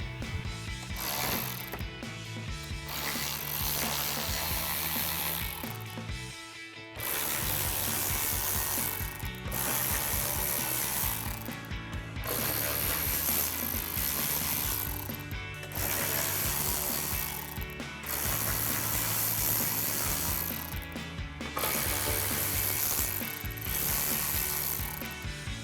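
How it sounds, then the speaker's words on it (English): A ratchet with an extension and 7mm socket removes the grille bolts on a 2024-2025 Mustang GT. Rapid, loud clicking comes close up in repeated bursts separated by short pauses. "we're going to grab our ratchet extension and 7mm socket. We're going to take out all the bolts going across the back side"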